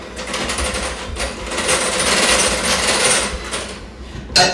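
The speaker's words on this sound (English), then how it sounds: "I'm going to take it over here to my mixer. Just get that kind of blended." An electric stand mixer blending two cups of pre-sifted powdered sugar in a home kitchen, giving a loud, steady whirring churn that swells slightly midway and ends with a brief clatter.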